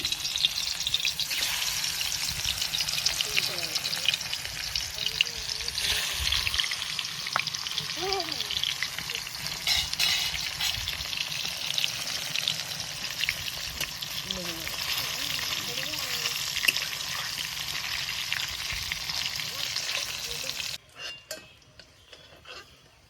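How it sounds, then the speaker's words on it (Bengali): Fish sizzle and spatter steadily in hot oil in a pan, a loud continuous frying hiss that runs throughout before cutting off near the end. "তেল ভালো মতোই গরম হয়ে গেছে এবার আমি তেলে মাছগুলো ছেড়ে দিলাম"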